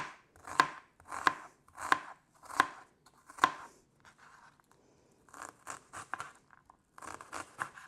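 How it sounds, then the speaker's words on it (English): A knife chops onions small on a cutting board for barbecue pork bites: about five loud, evenly spaced strikes, then a quicker run of lighter chops close by, with no talking. "We're going to, like I said, do about 1/4 cup of onions. We're just going to chop him up small too."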